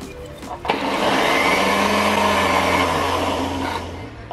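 Electric blender whirring steadily as it blends an Ovaltine biscuit drink with ice, the motor spinning up after a brief start and running loud and continuous for several seconds before easing off.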